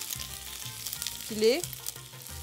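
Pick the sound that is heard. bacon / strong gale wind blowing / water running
bacon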